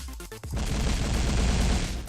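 Grenades going off at once in the Paranautical Activity shooter game: a few sharp hits, then a dense, loud, sustained roar of overlapping blasts that rumbles on without a break.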